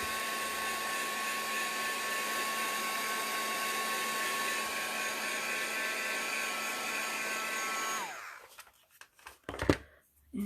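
A heat tool blows steadily and loudly while drying a handmade floral card, a constant whirring roar that cuts off abruptly near the end, followed by a few faint handling knocks.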